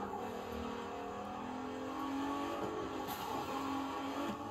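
A car in the racing game The Crew 2 drives through winding mountain S-turns, engine revving and shifting steadily with faint tire noise, fairly quiet with no talking.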